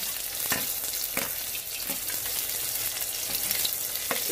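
Chopped garlic and onion fry in a pan for a Veg Manchurian, a dense, even sizzle with a few scraping stir strokes over it, close and steady throughout.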